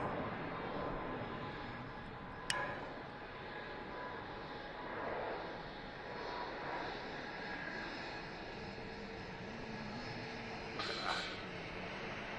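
Ryanair aircraft taxiing at Manchester Airport, a steady distant jet engine rumble with a broad continuous hiss and brief higher whines, no speech in the clip.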